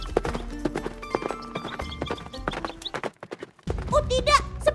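A horse gallops in a rhythmic, fast clip-clop of hooves, loud and close, with a whinny near the end, in a cartoon-style animated scene.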